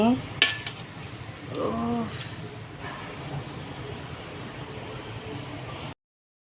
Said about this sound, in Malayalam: ഇളക്കി വിടട്ടെ